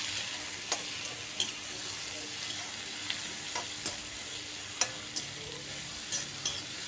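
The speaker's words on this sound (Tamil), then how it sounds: "முருங்கைக்கீரை நல்லா வதக்கிட்டு" Drumstick leaves sauté in a pan with a soft, steady sizzle, broken by scattered clinks and scrapes of a stirring spoon at irregular intervals, close and alone.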